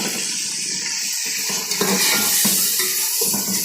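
Ingredients go into onions frying in a pot and are stirred through, giving a continuous sizzle with scraping and clinking of a utensil against the metal pot, close by.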